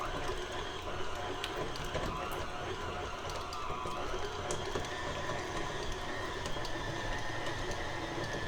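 A stand mixer creams butter in its bowl, giving a continuous steady whirring and rattling hum that stays even and fairly loud throughout.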